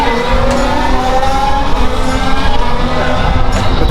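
Formula 1 race cars running on track at the Circuit of the Americas (COTA), a continuous loud engine whine and roar with shifting pitch as cars pass, dense and unbroken over the whole stretch.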